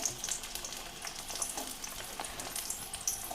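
Chopped onion and cinnamon frying in oil make a steady, dense crackling sizzle close by, with brief spits and pops throughout and no one talking.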